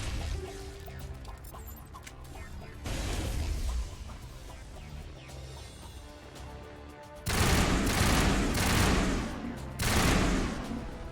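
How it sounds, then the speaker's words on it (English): Enemy gunfire aimed at the player in the video game Mass Effect 1, rattling bursts of shots that come in waves, with the loudest volleys near the end, set against a steady game background. "Oh, we're getting shot at."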